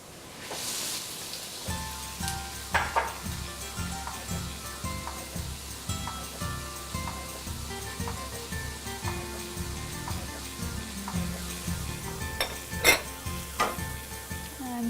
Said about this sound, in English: I'll be sauteing both of them with a little olive oil and some garlic that I turned into a paste